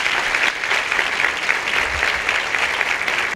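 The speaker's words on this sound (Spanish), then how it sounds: "Un aplauso para FM Corazón" An audience at an anniversary celebration and conference applauds loudly and steadily, a dense wash of many hands clapping at once that cuts off abruptly at the end.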